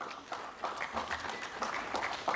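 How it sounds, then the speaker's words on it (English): A small conference audience at a construction technology event claps in welcome as a panel host comes on stage, a fairly quiet, steady patter of hands over a couple of seconds. "Please welcome, with a big round of applause,"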